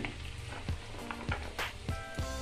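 Garlic and ginger fry in a pan for capsicum and onion, sizzling steadily while a spatula scrapes and knocks against it every half second or so.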